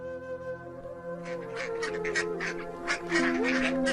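Several ducklings quack repeatedly at close range, busy overlapping calls rising over a quiet background.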